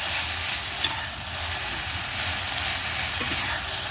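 Meatballs and mixed vegetables with green onion stir-fried in a pan, a steady broadband sizzle with faint scraping of the spatula running throughout, no talking.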